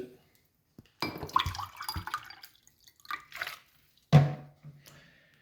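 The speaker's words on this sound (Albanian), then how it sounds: "do pi edhe një herë tjetër ujë" Quiet, close sounds of drinking water: a few sips and gulps with soft wet mouth noises, separated by short pauses, one louder swallow near the end.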